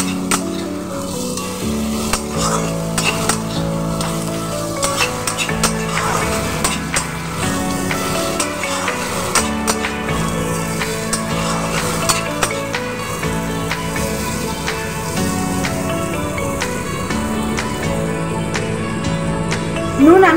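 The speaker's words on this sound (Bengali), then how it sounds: "দিয়ে আবার আমি একটু ভালো করে কষিয়ে নেব।" Minced meat mixed with chili powder and turmeric sizzles loudly and steadily in a hot pan while being stir-fried, with repeated scraping stirs and faint tonal background sounds throughout.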